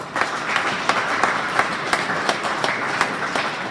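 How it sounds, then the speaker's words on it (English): A crowd applauding wrestlers at a school awards event, steadily, dense clapping with a few sharper claps standing out, continuous and fairly close, with no talking. "let's give those guys one more round of applause"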